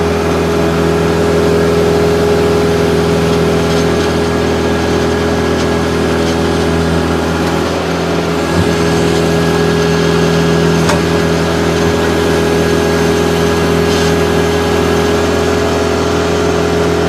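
The diesel engine of a 2011 Kubota B3200HSD tractor with backhoe runs steadily at idle, a continuous low drone with a brief change in pitch partway through.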